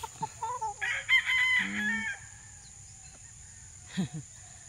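A rooster crows loudly nearby on a chicken farm, followed by scattered clucks from chickens against a steady background hum.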